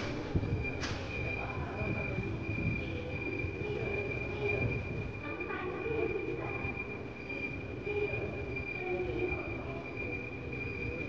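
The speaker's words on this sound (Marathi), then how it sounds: "इथून आता थायलंड पोलिसांची गाडी आम्हाला लगेजपर्यंत नेऊन सोडणार आहे" A Thai police vehicle carries passengers across an airport in Thailand to the luggage area. Its steady rumbling ride noise runs continuously throughout, with a faint high whine over it and some muffled voices in the background.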